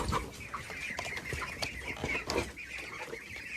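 Ducks quacking loudly and repeatedly nearby, harsh honking calls overlapping in a continuous noisy chorus.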